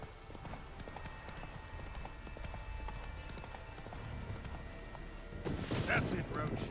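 The horse Roach in The Witcher 3 video game trots with rapid, even hoofbeats under game ambience, getting louder and busier near the end.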